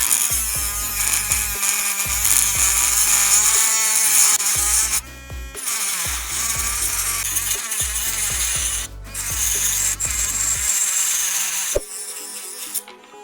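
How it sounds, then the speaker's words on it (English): A Dremel rotary tool cuts through a piece of gem-grade Baltic amber, a steady high-pitched whine and grinding that runs loud and close, briefly dropping out twice as the bit lifts from the resin. "it's not that easy to cut amber with Dremel"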